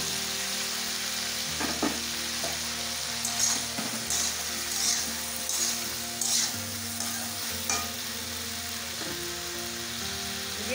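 Pumpkin pieces hit a pan already frying potatoes and pui greens (Malabar spinach), setting off a steady sizzle with occasional stirring scrapes and clinks over about ten seconds.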